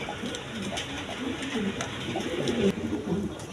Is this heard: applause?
no